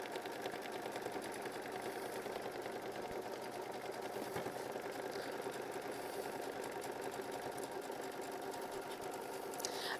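An embroidery machine stitches step 22 of a quilt block with a steady, rapid, close mechanical whirring and clatter that runs without a break.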